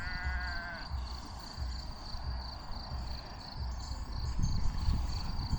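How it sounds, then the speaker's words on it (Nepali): A grazing sheep in a flock on green grass in Romania gives one short, faint bleat early on, with a soft steady insect-like hiss and low rustling continuing throughout. "मजाले घाँस खाँदैछ भेडाहरू"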